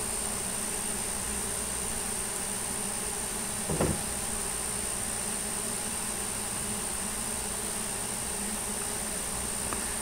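A swarm of bees flying around a hive at night makes a constant dense buzzing drone, with one brief louder knock partway through and no talk.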